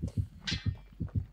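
The killer's heartbeat in the Dead by Daylight video game pulses loudly and close, as steady paired thumps repeating in a quick, even rhythm.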